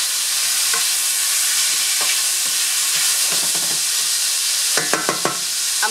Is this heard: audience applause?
no